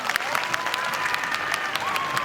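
An audience at a live Marathi comedy game show claps in a dense, steady burst of applause, with faint crowd murmur and a thin tonal hum underneath.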